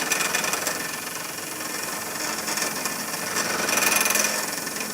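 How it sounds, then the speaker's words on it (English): A belt sander flattening metal in a blacksmith shop makes a continuous loud, gritty grinding roar with slight swells in intensity throughout. "if you don't have a belt grinder like this, actually this is technically a belt sander"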